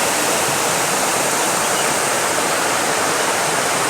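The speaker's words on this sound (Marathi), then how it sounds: "घोघाट म्हणजे तो धबधबा ज्याच्याबद्दल मी कधीही बोलत असतो माझ्या व्हिडिओ" Ghoghat waterfall pours in a steady, unbroken rush of white-noise roar, loud and close, with no voices over it.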